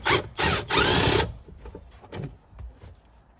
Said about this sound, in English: we'll take a 14mm socket and we're going to undo this seat belt casing right here